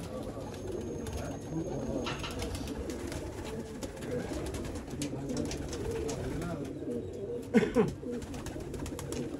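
Red-eyed pigeons coo steadily amid a busy, cluttered background, with a brief louder flutter near the end, in the Sialkot border area of Pakistan.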